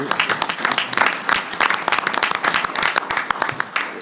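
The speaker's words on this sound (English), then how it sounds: "can we please give a round of applause to Shayna for 9 years of recovery?" Audience applause at a roundtable event, loud and close with dense, sharp individual claps continuing throughout, a few voices faintly underneath.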